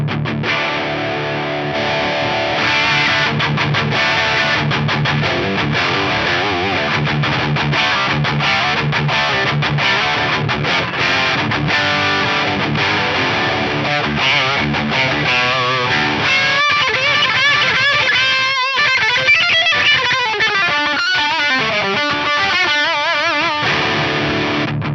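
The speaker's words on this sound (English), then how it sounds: "I think the gain channel sounds great boosted with a humbucker equipped guitar." A humbucker-equipped electric guitar played through the boosted gain channel of a Marshall JCM800 2210 amp, thick distorted chords and riffs ringing continuously at high volume, closing with sustained bending lead notes.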